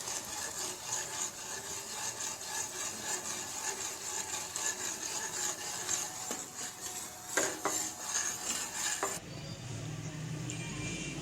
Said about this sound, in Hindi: ये हम डालेंगे इसके अंदर आहिस्ता आहिस्ता, और इसे हिलाते भी रहेंगे ताकि लम्स ना बने